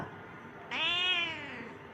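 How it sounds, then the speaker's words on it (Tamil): A kitten meows for food, one loud drawn-out harmonic meow rising sharply partway through and fading, close to the microphone with no talking. "எங்கள் பூனைக்குட்டி சாப்பாடு வேணுமாம்மா"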